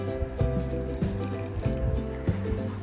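Water runs and splashes as it is poured into gram flour batter for crispy colocasia leaf pakoras, a steady trickling stream with a few small knocks, near and alone.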